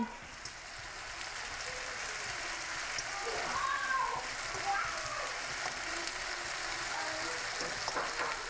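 Plantain slices sizzle in hot oil in a pan, a steady close crackling hiss running throughout with faint stirring and turning noises.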